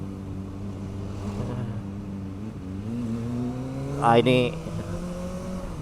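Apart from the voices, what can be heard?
motorbike engine while riding on the road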